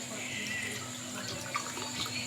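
Water from a tap runs steadily into a cooking pot for aloo gosht, a soft continuous splashing and trickle at moderate distance with no voices.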